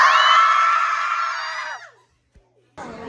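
A group of people scream together in one loud, sustained high-pitched yell that fades out after nearly two seconds, followed by a brief pause and then renewed noisy voices.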